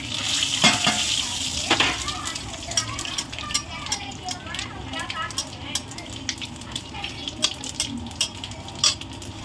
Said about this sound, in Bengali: কড়াইতে এখন সোমবার জন্য জিরে আর গরম মশলা নিয়েছি শুকনো লঙ্কা তেজপাতা এগুলো সব দিয়ে দেবো